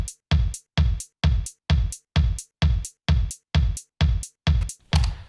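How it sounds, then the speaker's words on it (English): A Polyend Tracker drum-machine beat plays on its own, loud and steady, with evenly spaced punchy hits about twice a second and crisp hi-hats filling the offbeats. "I was just able to fill in hi-hats on all the offbeats, and it sounds like this"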